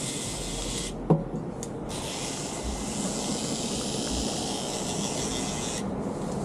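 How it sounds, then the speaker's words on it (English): A spray bottle at a haircut gives a steady, fairly loud spray hiss through most of the clip, with a short break and a sharp tap near the start. "I gotta buy a new spray bottle."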